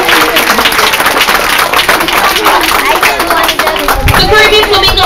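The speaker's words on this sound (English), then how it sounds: "let's give these birds a big round of applause as they come to their first stop" Outdoor crowd clapping and cheering for marching Caribbean flamingos at a daily bird show in Ardastra Gardens, Nassau, with a busy, close mix of applause, chatter and movement noise throughout.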